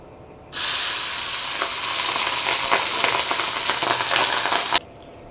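Prepared ingredients for veg chicken rice hit a hot pan with ghee, setting off a loud, steady sizzle with scraping stirs that runs for about four seconds, then cuts off abruptly.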